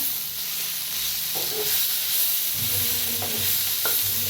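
Eggs cooked with fresh coriander roast in a hot pan, giving a steady frying hiss with a few soft stirring clinks over it, and no voices.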